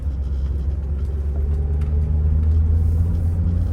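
A grandparents' 1978 Mercedes-Benz 450 SL under way, its engine giving a steady low rumble with a slight swell near the end, heard from inside the car with no talk.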